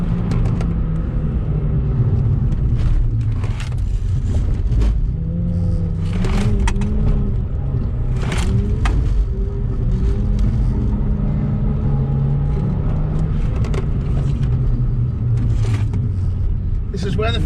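A Ford Fiesta engine drones loudly in third gear with no second gear available because of a clutch problem, a steady close rumble with shifting revs and occasional knocks and clunks, and a voice talks over part of it.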